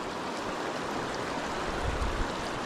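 River water flowing high and fast along a bank during a fossil hunt, a dense, continuous rushing wash, fairly close and steady throughout.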